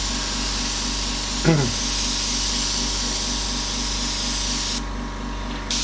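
An airbrush spraying white paint hisses steadily up close, a continuous airy spray under a constant compressor hum, cutting to a thinner hiss near the end as a voice briefly talks over it.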